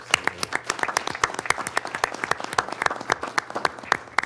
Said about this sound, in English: So I'd like to give them just a quick round of applause.